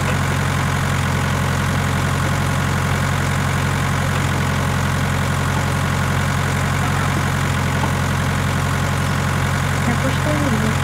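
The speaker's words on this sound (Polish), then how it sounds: "Traktor nie ma żadnych problemów z tym talerzówką." In Farming Simulator 19, a tractor pulls a disc harrow across stubble, its engine holding a constant, loud, low drone for the whole stretch.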